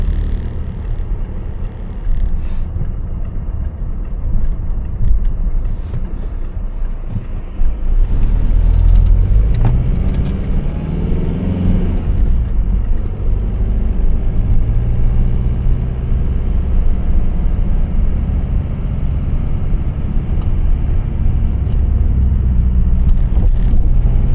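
A car drives along with a steady low engine and road rumble that grows slightly louder partway through, with no talk over the continuous noise.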